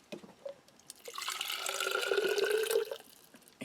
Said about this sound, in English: we need to pour a little bit of water into this bottle.